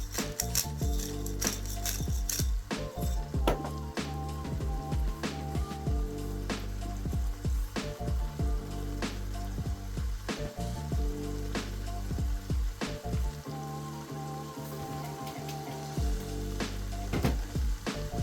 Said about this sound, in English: we're going to keep it sauteing here and just keep stirring it with a wooden spoon